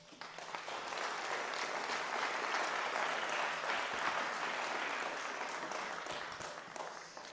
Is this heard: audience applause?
yes